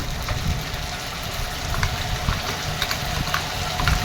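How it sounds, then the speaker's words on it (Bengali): Spice paste for a papad curry fries in a pan with a steady, moderate sizzle, broken by small pops and crackles. "ভালো করে মশলাটা কষিয়ে নেব।"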